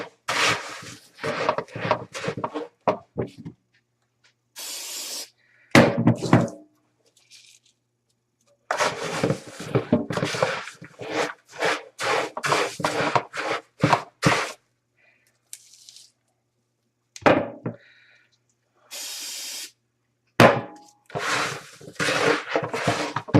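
Rice crispy treat mixture stirred by hand in a Tupperware Stack Cooker, giving bursts of sticky rubbing and scraping at close range, broken by short pauses and quiet stretches.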